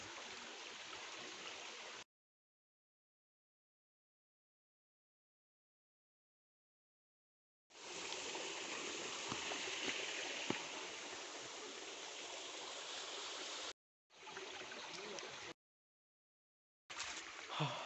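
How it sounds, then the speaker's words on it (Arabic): A waterfall in the Blida Atlas mountains gives a steady, full rush of flowing water, broken by several stretches of complete silence where the sound drops out. "غير شلالات."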